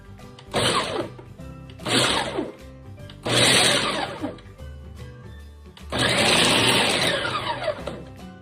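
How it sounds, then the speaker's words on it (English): A kitchen appliance grinding and mixing chocolate chips runs in four loud bursts, starting and stopping with short pauses between, harsh whirring and rattling up close. "We're using this to grind up the chocolate chips, and then it's mixing at the same time"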